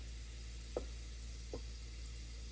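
Whole spices, fennel seeds among them, roast in a pan for Kuska pulao, giving a faint, steady sizzle broken by two light knocks of a utensil against the pan.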